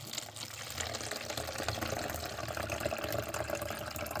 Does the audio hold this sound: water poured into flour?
yes